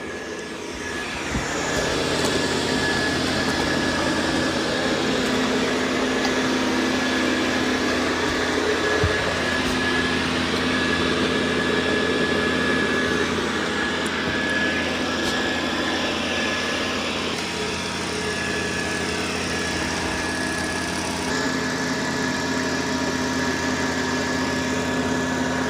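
A Dreame L10S Ultra Gen 2 robot vacuum cleans a corner in vacuum-only mode, giving a steady, loud, close motor whir with a constant high tone that stays even throughout, with no talking.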